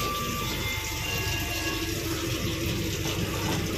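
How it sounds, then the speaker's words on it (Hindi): Water running from a tap in an Indian Railways train toilet, a steady gushing flow that stays even and fairly loud, with faint rattling train noise underneath. "पानी आ रहा है"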